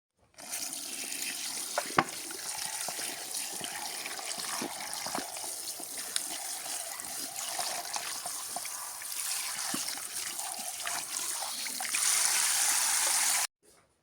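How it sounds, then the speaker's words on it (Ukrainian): Steady running water splashes continuously from a tap as salted carp is rinsed beneath it, with faint handling noises throughout. "Тому я просто її змиваю водою."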